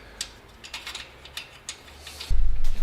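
A ratchet tightens the cam housing nuts on a 1969 Porsche 911T engine, making a series of crisp, close clicks in an uneven rhythm, followed by a short low rumble at the end.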